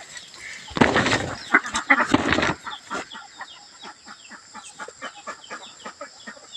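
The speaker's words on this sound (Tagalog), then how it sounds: "Mga naglilimlim na itik." Brooding ducks give a burst of loud raspy calls, then a long run of soft, rhythmic clucking and muttering close by.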